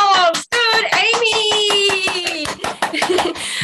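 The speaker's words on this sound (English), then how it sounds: "Give yourself a round of applause" Hands clap at an online children's English class, sharp claps running beneath bright, sustained young voices that almost drown them out.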